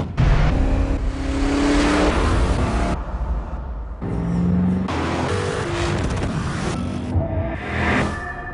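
A Hyundai Genesis R-Spec with a 429-horsepower engine accelerates hard, its loud engine roar rising in several surges with breaks between, set against a busy, full-band advertisement mix.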